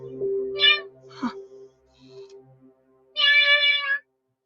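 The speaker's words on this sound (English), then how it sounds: "Robot Kitty, that's cool" Robot cat in the Terminator Zero anime gives short electronic meows, a couple of brief chirps early and one longer buzzing meow near the end, over a quiet low hum.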